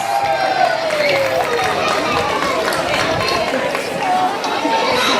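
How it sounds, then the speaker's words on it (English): A school word parade audience applauds and cheers, a continuous mix of clapping, crowd chatter and children's voices at steady loudness throughout. "Give him a round of applause."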